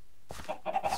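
Chicken in Tekkit, a Minecraft mod, giving a quick series of short clucks after a brief silence, close and clear.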